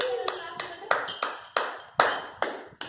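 Clapping for a small boy named Ganesh: about eight sharp, separate handclaps in an uneven beat, close and fairly loud, with a voice chattering between them.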